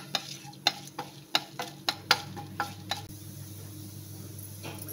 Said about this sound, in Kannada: ಇದರಲ್ಲಿ ಇವಾಗ 1 ಸ್ಪೂನಷ್ಟು ಕಾಳು ಮೆಣಸು, 1 ಸ್ಪೂನಷ್ಟು ಜೀರಿಗೆ ಚೆನ್ನಾಗಿ ಫ್ರೈ ಮಾಡ್ಕೊಳ್ಬೇಕು.